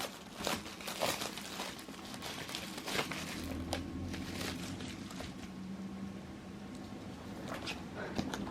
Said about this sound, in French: Hop, on va déballer tout ça.